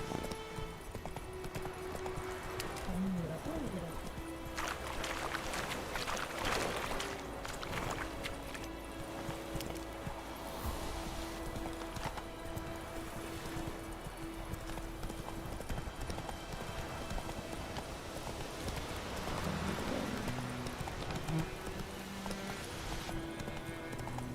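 Roach the horse gallops in Witcher 3: Wild Hunt, with a steady, rapid clip-clop of hooves running throughout amid ambient game sound.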